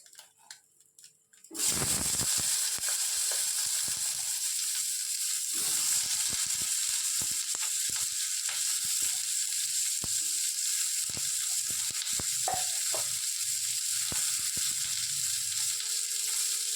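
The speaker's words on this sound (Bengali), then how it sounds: "ওই তেলেই আমি দিয়ে দেব পেঁয়াজ আর ক্যাপসিকাম টুকরো করে রেখেছি সেইগুলো" Onion and capsicum pieces sizzle steadily in hot oil in a home kitchen, a loud continuous frying hiss that starts abruptly after a quiet moment and carries on with small crackles and stirring clatter.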